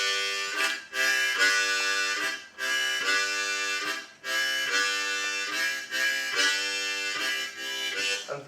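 A blues harmonica sounds a chord in rhythmic breaths, each long held chord followed by two quick pulses, repeating steadily in a chugging train-like pattern. It is played close and clear, with no talking.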